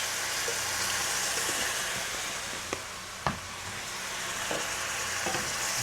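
Food sizzling steadily in a hot pan after Worcestershire sauce is added, a continuous close fry with occasional small clicks and stirring knocks.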